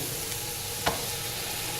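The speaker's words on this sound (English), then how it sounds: "put these chicken breasts on here and get them starting to sizzle" Steady hiss of chicken breasts sizzling on a hot grill, a continuous crackling sizzle with one brief louder pop partway through.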